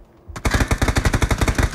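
A rapid burst of automatic gunfire in PUBG starts abruptly and continues in an even, fast rhythm, loud and close, with no talking.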